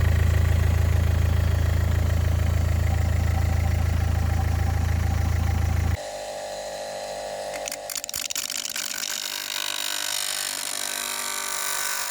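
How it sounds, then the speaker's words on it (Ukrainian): A car engine idles steadily with a low, constant hum, then the sound shifts abruptly to quieter mechanical clatter and rustling nearby. "Зараз для контролю ще заведемо двигун"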